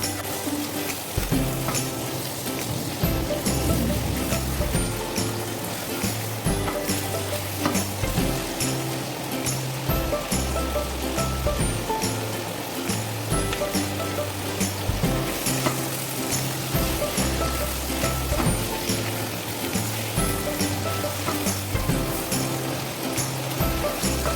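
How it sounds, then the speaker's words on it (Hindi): Chicken pieces fry in a pan, a steady, close crackling sizzle with faint stirring and scraping that continues evenly for the whole stretch, with no talk. "चिकन को थोड़ा सा फ्राई करना है"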